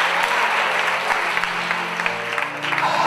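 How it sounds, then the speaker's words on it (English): A church congregation claps hands steadily during worship, a continuous dense clapping with sustained organ or keyboard tones underneath, fairly loud and close throughout. "Come on, somebody clap hands and rise up to your feet."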